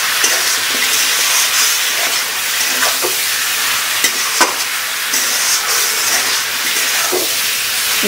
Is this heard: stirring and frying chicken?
yes